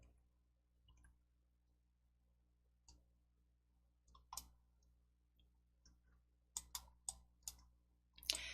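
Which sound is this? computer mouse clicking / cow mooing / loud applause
computer mouse clicking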